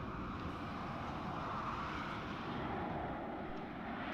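Harrier jet in the WARNO wargame, a steady broadband engine roar with low rumble holding at even loudness throughout, no talk over it.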